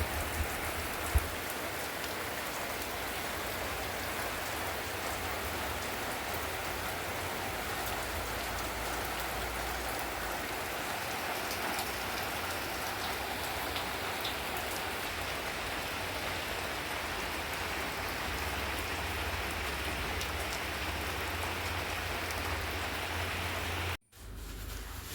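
Steady rain pours outdoors in a village, a dense, even hiss of drops hitting surfaces that continues unbroken for the whole stretch, moderately close, with no talking over it.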